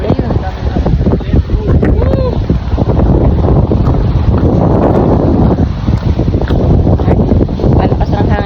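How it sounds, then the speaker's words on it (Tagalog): Strong wind blows outdoors at a park in Canada, buffeting the microphone with continuous loud, rumbling gusts throughout. "Hangin lang naman yan."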